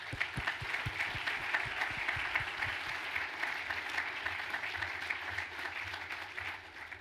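Audience applause at a closing session of the GLOBSEC 2015 conference, honouring the Kempinski hotel staff: dense, steady clapping from a large crowd, holding for about seven seconds and thinning slightly toward the end.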